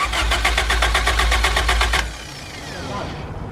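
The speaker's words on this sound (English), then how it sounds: "All right, give her a good old crank." A Ford EF sedan engine cranks without firing, a close rapid rhythmic whirring of the starter for about two seconds, then it stops and faint background noise remains.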